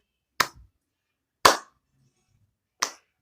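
Three sharp, isolated hand claps sound close and loud, spaced about a second apart with silence between them.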